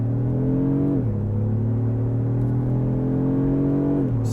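A 2024 Lexus GX550 Overtrail Plus with a twin-turbo engine accelerating hard without launch control, a loud steady engine drone rising in pitch with a couple of brief drops at gear shifts, alone without talk.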